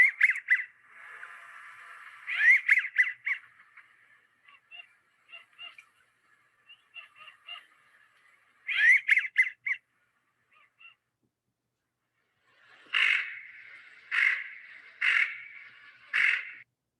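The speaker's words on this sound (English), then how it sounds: "that male does make a beautiful, beautiful whistle there" American Wigeon ducks calling on winter water: clear whistled phrases from a male and harsher, lower notes from a female, in separated bursts with short pauses and quiet gaps between groups.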